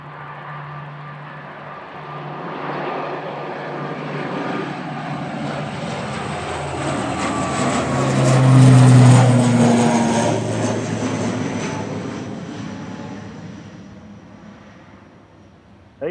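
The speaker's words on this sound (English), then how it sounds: "Flight 698 to the Isle of Man now, GLMTA, ATR 72600 for Logan Air" A Loganair ATR 72-600 turboprop airliner on flight 698 to the Isle of Man swells from a distant drone to a loud propeller roar as it passes at Manchester Airport, then slowly fades away.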